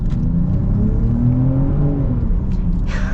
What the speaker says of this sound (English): Now let's get an acceleration here with this new powertrain.